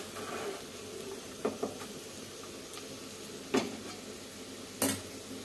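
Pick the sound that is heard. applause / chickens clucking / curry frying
curry frying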